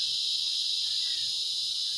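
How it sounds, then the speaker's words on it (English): Cicadas buzzing outdoors in the sun, a continuous loud high-pitched drone that holds steady and unbroken. "Cicadas are out."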